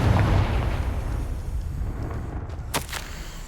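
Confringo fire spell explosion in the video game Hogwarts Legacy, a loud booming blast that fades into a rumbling tail, followed by a couple of sharp crackling hits.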